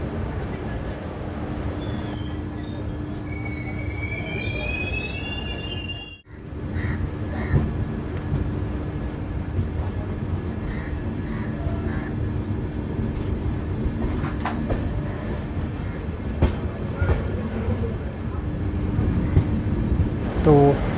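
The Samta Express pulls out of Ambodala station after a short halt, its carriages rumbling steadily with a constant low roar and occasional metallic clicks. High wheel squeal is heard briefly near the start.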